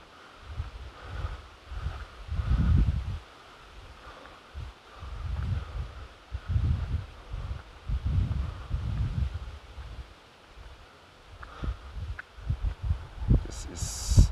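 Blustery wind from ex-hurricane Kirk in Saxony, Germany, buffets the microphone in uneven low rumbling gusts, rising and falling across the whole stretch, with a brief voice near the end.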